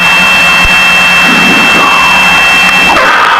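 A Piper Seneca twin-engine plane's engines run at takeoff power, a loud, steady, droning roar heard from inside the cabin with a constant high whine above it.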